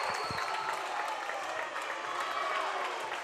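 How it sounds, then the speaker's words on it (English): A home crowd at a high school boys basketball game at Mountain View applauds and cheers after a dunk, with dense, sustained clapping and crowd noise filling the whole stretch at an even level. "that gets the Mountain View crowd on their feet for the first time tonight"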